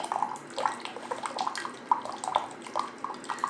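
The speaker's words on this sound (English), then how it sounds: "how you can dispense water within 3 seconds" Water trickles and splashes from an Aquibear reverse osmosis water dispenser in a steady, close pour with small bubbling pulses, and no one speaks.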